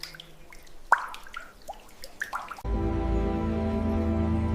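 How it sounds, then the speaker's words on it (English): Water drips slowly in a cave, several distinct plinks echoing in a quiet space before a loud, steady droning rumble abruptly takes over and covers the rest. "Every drip adds to a sculpture thousands of years in the making."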